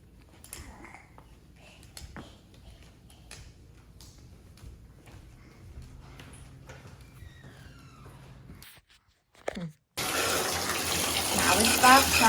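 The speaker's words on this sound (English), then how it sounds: "Now it's bath time. Fill up the water." A bathtub filling from the tap at home comes in as a loud, steady gush of running water after a quiet stretch with soft voices and household knocks.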